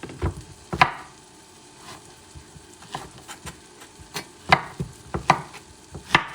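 A knife cuts through ripe plantains on a board, making sparse, sharp, close chopping taps at irregular intervals over quiet background noise.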